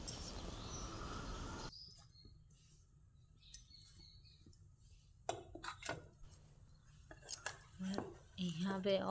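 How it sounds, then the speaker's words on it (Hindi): Coated eggplant pieces set onto a plate by hand, a run of light clinks and taps of utensils and dishware, sparse at first and then busier, close and fairly quiet. "तो यहाँ पे हम एक प्लेट में सारे बैगन को प्लेट में रख लेंगे।"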